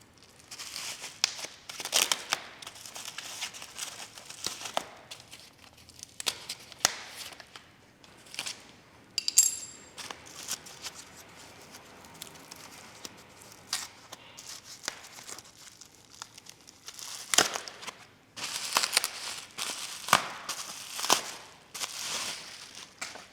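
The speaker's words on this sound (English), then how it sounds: "now I'll get this packaging off all of this handlebar and headset" Plastic and foam packaging crinkled and torn off the handlebar and headset of a Higgs step-thru electric bike, close and alone, in irregular bursts of rustling, crackling and ripping with short quiet gaps.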